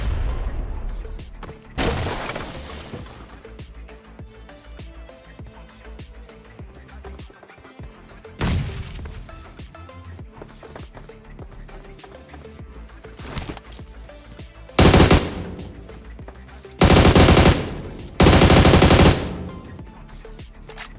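Gunfire from a fight between players in BGMI (PUBG Mobile), with bursts of loud automatic fire breaking out repeatedly over a quieter game background, the last few bursts longer and more intense.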